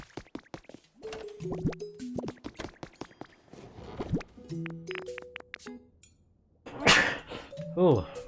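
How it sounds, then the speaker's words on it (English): A single quick human sneeze near the end of a busy stretch of cartoonish game blips and plinks from Pokémon Pokopia, close and fairly loud. "I thought I was gonna sneeze twice then"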